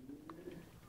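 A domestic pigeon gives a soft low coo, faint and somewhat distant against a quiet background, a single brief call with no speech.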